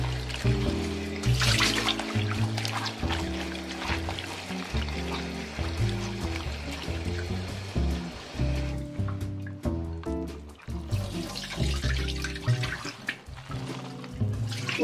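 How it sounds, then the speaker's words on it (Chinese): Running tap water pours steadily over fried oil tofu in a bowl as it is rinsed clean, a continuous splashing gush, with a background melody playing underneath. "热水倒掉，用清水给它冲洗干净"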